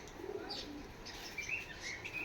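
Pigeons coo faintly in the distance, with a few soft chirps over quiet background noise.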